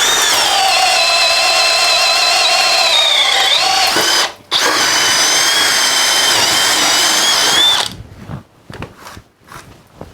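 A Hercules brushless hammer drill bores with a 3/4 inch spider auger bit, a loud, close high-pitched whine that dips under load, stops briefly, resumes, then cuts off into scattered clatter.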